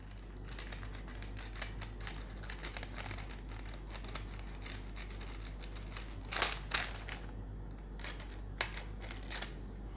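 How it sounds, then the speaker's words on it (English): Scissors trimming extra paper at the top of a container for a school working model of a four-stroke engine, heard as close, faint snips and paper crinkles, with one louder snip partway through and no speech. "we need to cut that much of extra paper with the help of scissor"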